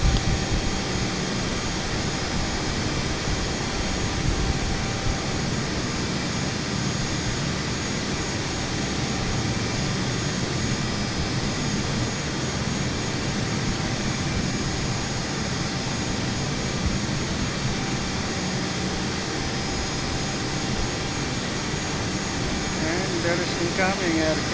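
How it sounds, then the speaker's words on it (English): A jet aircraft approaches to land at an airport, a loud, continuous broadband engine roar that holds steady throughout with no clear rise or fade. "Another aircraft is coming."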